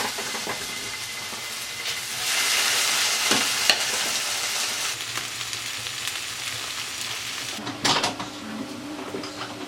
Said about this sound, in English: Fry them off.